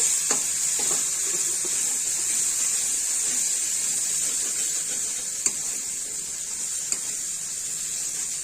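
Spice paste frying in a pan with salt and crushed garlic greens for an egg and potato curry, a continuous close sizzle broken by a couple of sharp stirring clicks.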